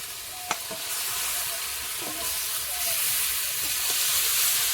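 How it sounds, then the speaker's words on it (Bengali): Chicken pieces go into sizzling fried ginger-garlic paste for a thin Bengali chicken curry. A continuous hissing sizzle swells gradually, with a few light clinks of a utensil near the start. "আদা রসুন বাটা ভেজে নিয়েছি এখন মাংসটা দেব"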